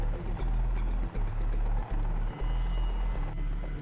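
A VH-3 Marine One presidential helicopter flying, a continuous heavy rotor and engine drone with rhythmic low thumping, loud and steady throughout with no talk over it.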